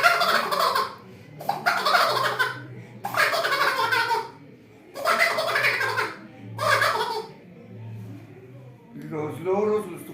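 A hand-cupped bird whistle imitates a turkey gobble in a series of rapid warbling bursts, loud and close, about five in a row with short pauses.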